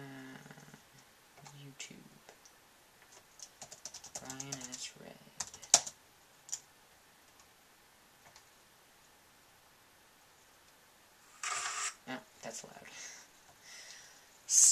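Laptop keyboard typing nearby in short bursts of quick, light key clicks separated by pauses, with a voice speaking briefly at the start.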